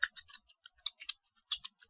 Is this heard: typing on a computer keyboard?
yes